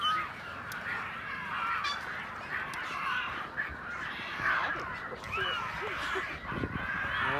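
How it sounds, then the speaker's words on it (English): Harsh, raspy calls of baby birds repeat continuously at moderate distance at New Smyrna Beach, Florida, a chorus of squawking young birds with faint talk in the background. "Entertaining her with baby birds."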